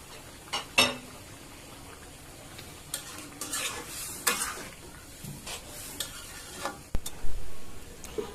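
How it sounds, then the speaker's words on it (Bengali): Pieces of fried fish added to a simmering fish curry in a pan, with soft sizzling and scattered scraping stir clicks of a spoon, close and fairly quiet, with irregular clatters over a gentle bubbling background. "ভেজে রাখা মাছগুলো দিয়ে দিলাম।"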